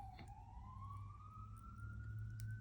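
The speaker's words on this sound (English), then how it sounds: "Sorry for the sirens." A single emergency siren wails faintly from outside, its tone rising slowly and steadily over a low rumble of distant traffic.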